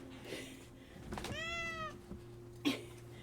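A house cat gives a single clear, rising-then-falling meow close by indoors, followed by a brief quieter chirp, over a faint steady electrical hum and light room noise.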